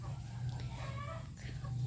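Chickens cluck softly on a small farm with goats, giving a faint low murmur of fowl sounds that runs steadily throughout.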